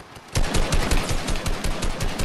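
Rapid automatic gunfire in an arena shooter, a dense, loud burst of repeated shots starting abruptly and continuing steadily without pause.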